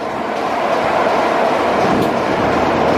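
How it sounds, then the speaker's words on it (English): Diesel locomotive D6515 hauls a train on the Swanage Railway, heard as a loud, steady rumble and broad roar of rolling stock from close by, continuous for the whole stretch. "it's D6515 that's pulling this today, named Lieutenant Lenny Lewis, RN."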